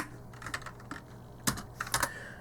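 Someone types on a computer keyboard, a close run of irregular clicking keystrokes with a few sharper, louder presses near the end.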